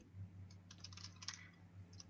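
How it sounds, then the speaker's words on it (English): Keys on a computer keyboard clatter in quick, irregular bursts of light clicks at low level over a steady background hum, with no talking. "I was in the middle of typing your fun fact"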